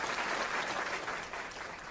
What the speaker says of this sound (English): Can everybody hear the claps?